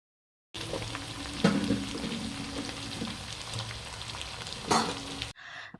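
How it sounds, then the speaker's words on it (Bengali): Ridge gourd is sautéed with potato and onion in a pan, giving a steady close sizzle and a couple of louder stirring scrapes, with no talking. "এবার ঝিঙেটা দিয়েও ভালো করে কষিয়ে নেব"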